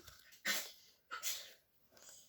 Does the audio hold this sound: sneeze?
yes